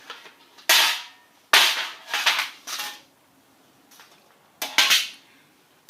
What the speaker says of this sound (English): Shake the loose powder out of there, and you're good to go.